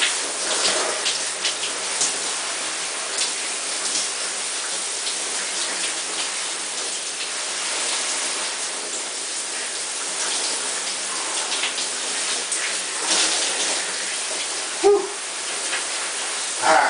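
Shower water runs in a steady, loud, broadband hiss that holds constant throughout, close by, with a brief clunk near the end and no talking.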